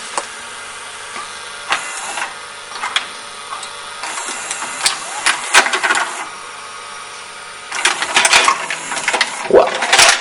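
Old VCR found in the garbage ejecting a tape, a series of mechanical clicks, whirs and clunks from the loading mechanism, close up, with a busier rattling burst toward the end.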